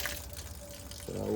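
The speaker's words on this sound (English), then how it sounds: "Turn the water on." Water runs from a newly installed weatherproof frost-free faucet on an outdoor sauna or shed, a steady close hiss that swells louder near the end, with a voice partly over it.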